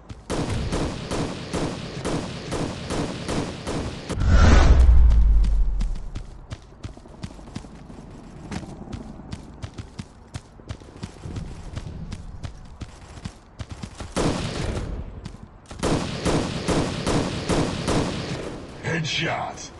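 Bursts of automatic gunfire come from the Guns of Boom shooter game, in rapid rattling volleys broken by a heavy boom and short pauses. Game voice announcements sound between the bursts.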